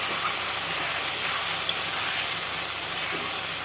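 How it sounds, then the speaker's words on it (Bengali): A fine spice paste with turmeric frying in a pan for Bengali katla fish curry, giving off a steady, even sizzling hiss with no break. "তৈরি করে রাখা মিহি পেস্ট, মশলাটাকেও বেশ কিছুক্ষণ ভেজে নেব"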